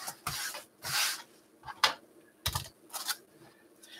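Cotton quilting fabric ripped apart by hand in several short, crisp tearing bursts, close and fairly loud, with pauses between pulls.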